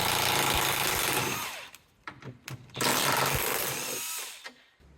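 Power tool undoing the 15mm wishbone bolts on an Alfa Romeo, close and loud, whirring in two long bursts with short sharp clanks and stutters between them.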